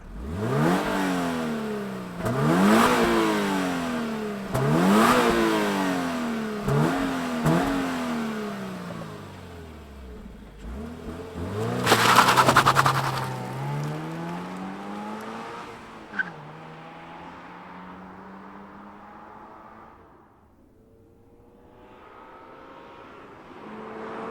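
A 2024 Subaru BRZ tS sports car engine revs repeatedly in short, rising bursts, then roars loudly as it accelerates away and fades, with a sharp squeal along the way.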